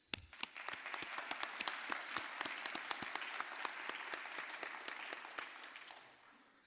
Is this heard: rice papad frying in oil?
no